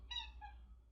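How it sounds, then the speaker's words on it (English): A pet cat gives a single short meow close by in a quiet room, with a faint low hum underneath. "Cause there's my cat."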